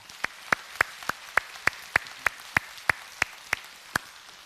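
Hands clap in a steady, even beat during a Korean Sunday church service, about thirteen crisp claps spaced roughly a third of a second apart, close and distinct over a quiet room.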